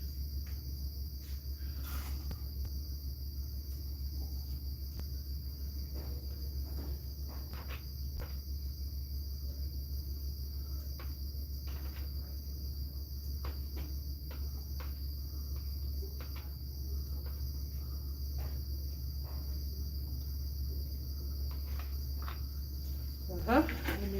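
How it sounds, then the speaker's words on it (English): Crickets and other insects chirp steadily through the night outdoors beside young seedlings, a constant high trill with a continuous low hum underneath and occasional faint clicks, unbroken from start to finish. "So many insects around."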